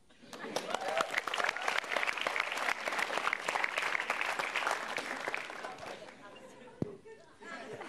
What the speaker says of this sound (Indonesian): Langsung beri tepuk tangan saja untuk